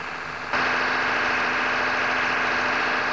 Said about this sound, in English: The load on the engine is then increased and the throttle setting advanced to maintain the engine speed.